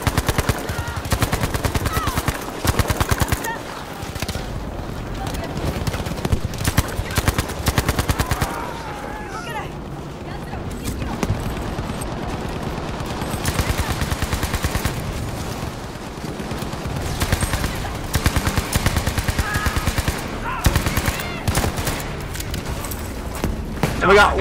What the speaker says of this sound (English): he's absolutely shredding the enemy team with the EMP